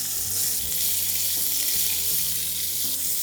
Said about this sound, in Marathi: आपण जी इथे भेंडी कापून घेतलेली आहे ती याच्यावर परतायची आहे.